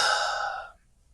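A deep breath drawn or let out close to the mic, a broad airy rush that holds steady for about two thirds of a second, then stops and leaves near silence.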